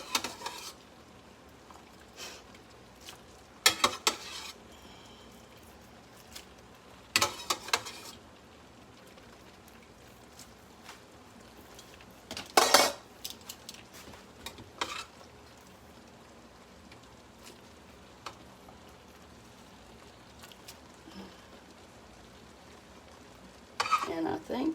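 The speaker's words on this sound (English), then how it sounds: "I'm just going to transfer this pasta over to this pan" Cooked fettuccine being moved into a pan with utensils: scattered clinks and scrapes in short bursts separated by quiet stretches, with a faint sizzle underneath.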